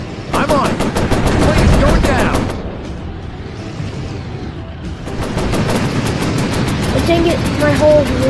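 Rapid machine gun fire from a warplane in a VR Pacific air-combat game, loud fast bursts before and after a quieter stretch of engine drone, with a voice speaking over the end.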